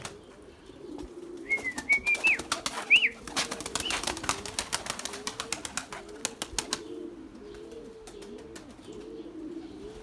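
Pigeons in a garden coop, including a laying hen, coo in soft repeated bursts nearby, with flapping wings and scuffling clatter in the middle and a few thin chirps early on.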